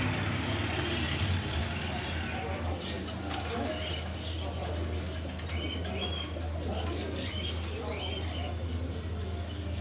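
Pigeons in a loft in Alexandria coo softly among the birds, with possible wing flutters, over a steady low traffic rumble and background voices.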